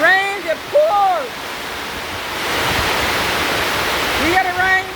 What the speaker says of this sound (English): Look how heavy the rain sounds.